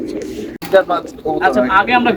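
Kalijira-line pigeons coo in soft, throaty bursts close by, heard underneath people talking back and forth.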